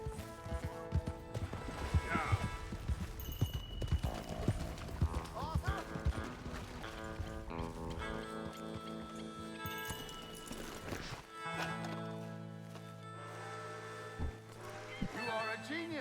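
Horse hooves clip-clop in the Red Dead Redemption 2 video game, a quick rhythmic gallop with game music and voices talking over it, the hoofbeats easing off in the later seconds.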